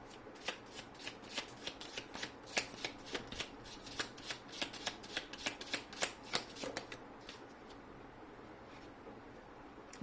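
Tarot cards are shuffled in a steady run of crisp riffling bursts, close and fairly quiet, tapering off near the end with no talking.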